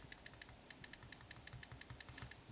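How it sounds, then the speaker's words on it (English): Rapid light clicking taps in an uneven typing rhythm, crisp and close: a first-generation iPod Touch on-screen keyboard's key sounds repeating one after another. "This was the sound of the keyboard."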